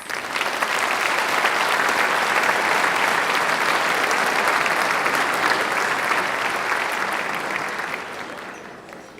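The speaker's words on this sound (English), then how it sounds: "Please join me in giving them a round of applause." Sustained applause from a large audience at a school honors night, dense even clapping holding strong for most of the stretch and then fading out at the end.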